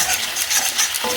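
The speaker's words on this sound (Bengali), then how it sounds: "এবার এটা মিক্স করে নেবো।" A Chicken 65 sauce mixture sizzles loudly in a pan as it is stirred, a dense bright frying hiss pulsing with quick stirring strokes close up.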